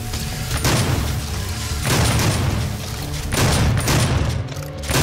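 Loud, continuous bursts of gunfire and booming shots in the Xbox One game DOOM fill the whole stretch, swelling and easing in dense waves with no talk over them.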